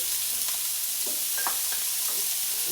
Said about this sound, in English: I'm going to be frying this mix, the shallot and garlic mix